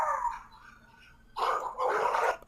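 Dogs barking in a played-back recording of an attack, a few loud close barks, an opening bark then a pause, followed by two harsh barks in quick succession.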